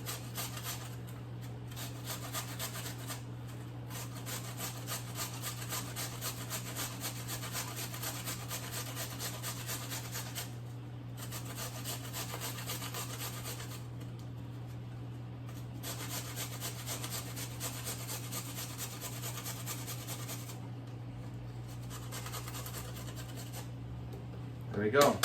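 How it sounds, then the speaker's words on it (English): A carrot rubbed against a hand grater in a home kitchen while a salad is made, a steady rasping scrape running continuously over a constant low hum, with short pauses between strokes. "take a grater and just grate the carrot in"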